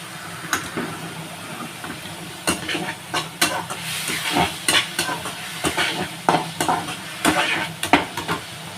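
Onion fries in a generous amount of oil in a pan, a close, crackling sizzle broken by repeated scraping stirs and clinks of a spatula against the pan.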